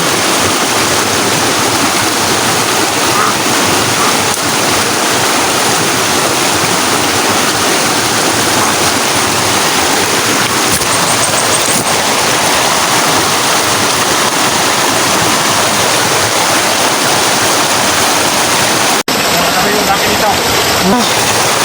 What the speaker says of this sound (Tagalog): Napakalakas ng agos ng tubig